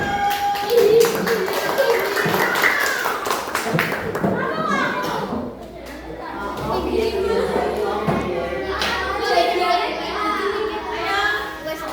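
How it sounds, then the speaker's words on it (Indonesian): Classmates clap briefly for a group about to present in a school classroom. Scattered claps come mixed with children's chatter and lively voices, and a teacher speaks over the noise. "Tepuk tangan untuk kelompok 1."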